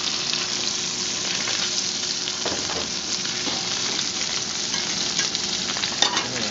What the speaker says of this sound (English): Trying to make sure this is seared good in all the spots.